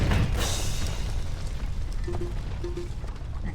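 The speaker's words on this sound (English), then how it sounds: "An explosion! It sounded like it came from right outside." A low, rumbling explosion in the video game Aviary Attorney opens with a burst of noise and then fades into a lingering roar. A couple of faint tonal blips follow.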